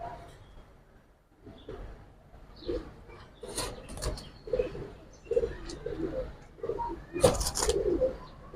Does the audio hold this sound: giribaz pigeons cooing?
yes